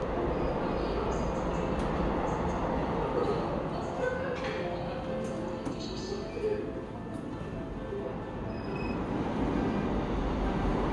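A Korean subway train carrying a passenger, heard as a steady, loud broadband rumble and rail roar throughout, with faint background voices and a few brief high tones.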